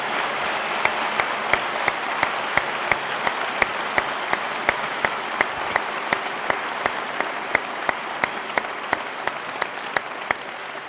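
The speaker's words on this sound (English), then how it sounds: "A round of applause for both gentlemen" An audience at a 2009 debate applauds both debaters, a sustained, even roar of many hands clapping, punctuated by regular sharp ticks, with no talk over it.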